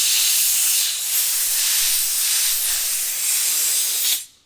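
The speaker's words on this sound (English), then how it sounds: "Now I'm just blowing this dry with a bit of compressed air, and I'm not going crazy." A compressed air nozzle rated at 100 psi blowing dry a cleaned MAF sensor from a Toyota Landcruiser 200 Series, a close, steady loud hiss in a few slightly pulsing blasts that cuts off abruptly at the end.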